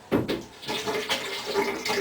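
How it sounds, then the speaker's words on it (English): Water poured into a container partly filled with film fixer during home film processing, a close, steady splashing gush with a few louder surges. "you can fill up the rest with water here"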